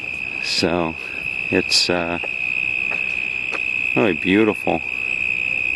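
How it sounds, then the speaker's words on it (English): Crickets chirp in Melbourne's Royal Botanic Garden, a continuous high, steady trill running under a nearby voice speaking in short bursts. "You can hear the, I don't know what those are, crickets or something."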